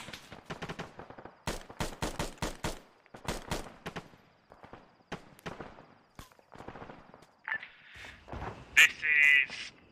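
Automatic and single gunfire crackles in bursts through an Arma 3 firefight, sharp repeated reports spread across the scene, with a brief electronic radio-like tone near the end.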